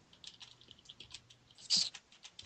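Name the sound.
typing on Xbox keyboards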